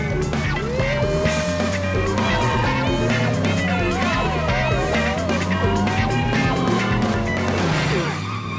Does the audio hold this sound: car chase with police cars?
yes